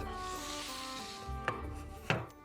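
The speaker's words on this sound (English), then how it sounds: "now put the plank trout on" A wooden plank holding trout is set onto a smoker's large cooker grate, making a couple of sharp wooden knocks and a short scrape over a quiet background hum.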